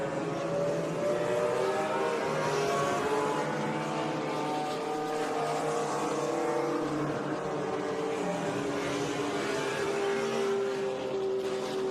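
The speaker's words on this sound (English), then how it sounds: "Let the sound rip into the air around the Monterey Hills. What a beautiful cacophony of noise." Several vintage race car engines roar together with rising and falling pitch as cars pass at the Monterey Reunion, a dense continuous mechanical din with no voices.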